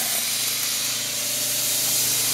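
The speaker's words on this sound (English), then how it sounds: "That's spraying with an O2 jet full time." A Clean Storm Volcano carpet and upholstery cleaner with an 1800-watt heater and 220 psi pump sprays steadily through a number 2 jet, a continuous close hiss with a low pump hum beneath it.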